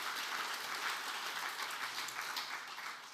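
A church congregation applauds steadily after a sermon, many hands clapping in a dense, even patter heard from a distance.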